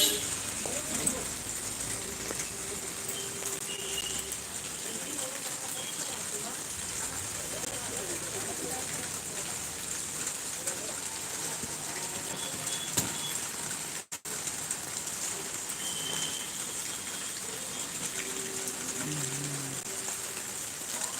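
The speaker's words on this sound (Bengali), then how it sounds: "বৃষ্টি হচ্ছে খুব প্রচণ্ড বৃষ্টি" Steady rain falls throughout at moderate level, a constant hiss of drops with faint bird calls and a brief dip partway through.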